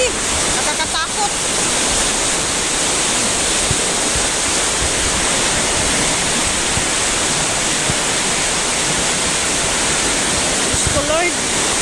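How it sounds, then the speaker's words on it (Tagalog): Floodwater in the Piñan river roars in a steady, loud broadband rush, a constant churning wash heard up close with faint voices near the start and end. "Basta uulan doon sa bukid, malakas talaga papunta dito. Mabaha talaga."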